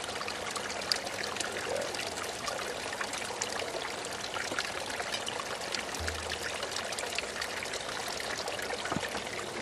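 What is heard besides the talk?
water pouring into a large carboy bottle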